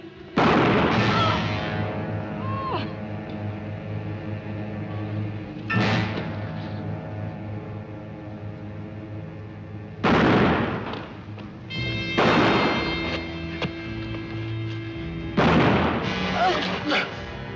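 Gunshots ring out in a western movie gunfight, several loud sharp reports spaced seconds apart with a pair of shots late on, over tense background music and scattered shouting voices.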